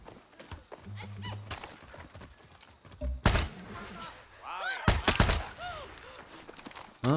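Hooves clip-clop and a horse whinnies amid loud bursts of gunfire and game noise in Far Cry 6, with a voice talking over parts of it.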